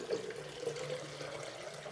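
Water pours steadily into a tall vase, a soft, continuous trickling with no talking.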